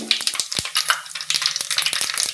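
Mustard and cumin seeds dropped into hot oil, sizzling and popping in rapid, irregular crackles, close and loud for a couple of seconds with a faint hum underneath and no talking.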